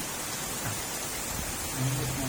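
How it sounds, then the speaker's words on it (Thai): Heavy rain falls in a steady, dense hiss that fills the whole stretch and swells slightly near the end. "ฝนตกแรงแล้วครับ"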